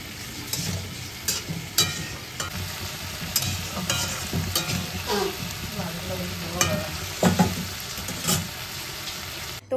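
Masala for a prawn and potato curry fries in a pan as it is stirred, with steady sizzling and repeated scraping and clattering of a spoon against the pan throughout.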